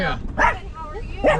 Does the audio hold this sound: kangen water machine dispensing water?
no